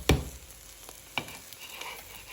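An egg omelette seasoned with salt, chilli, turmeric and pepper fries in a pan, a soft continuous sizzle broken by a couple of sharp scrape or stir clicks, close and moderately quiet, with no talk.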